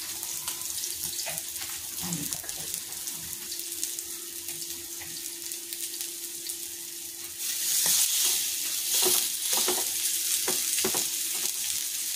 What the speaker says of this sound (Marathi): आता तेल गरम झालेलं आहे, आता मासा फ्राय करूया आपण।